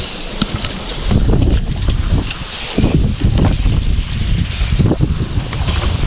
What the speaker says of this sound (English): we've got a fair old bit of wind, but we're moving along very nicely